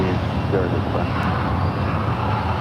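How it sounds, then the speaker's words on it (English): An Alaska Airlines Airbus A320 takes off at San Francisco International Airport, its engines a broad, steady roar that holds even and fairly loud throughout, with faint background rumble from the airfield. "Goes Alaska 213 down to LAX, Airbus A320."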